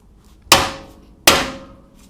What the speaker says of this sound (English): Then we'll hit this real hard with the hammer and it should pop right out.